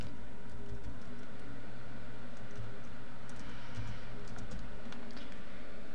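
Typing on a computer keyboard: a steady, quiet run of small key clicks over a constant background hiss, with no talking.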